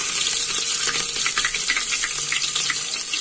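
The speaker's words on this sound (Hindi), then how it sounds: "अब मैंने जो ग्रेवी के लिए प्याज पीसी थी, तो अब मैं उसको छौंकूंगी" Onion paste and chopped onion with a little chili sizzling in hot oil for a gravy base, giving a dense, steady hiss with crackly spatter close by and no talking.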